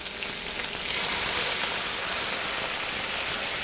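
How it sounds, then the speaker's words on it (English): Caramelizing onions in a hot pan hiss and steam after a splash of water goes in, a dense, even rush of sizzling that grows slightly louder and holds steady with no talking. "You can hear that steaming"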